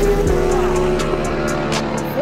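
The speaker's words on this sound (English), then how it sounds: "we see a four-man race coming down the road" Racing motorcycles, a four-rider race passing on a road, roar loudly nearby with a steady high engine whine that shifts in pitch as they sweep past.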